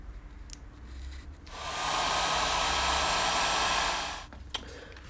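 A heat gun blows for a few seconds to shrink heat-shrink tubing over wires during a brake master cylinder change on a BMW R80 custom motorcycle, a steady close airy roar that starts and stops between quiet workshop moments.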